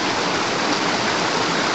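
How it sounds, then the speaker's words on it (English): River water rushing over big rocks near a gold-panning spot, a steady, close, dense roar of flowing water with no other sounds. "it drops down to the river"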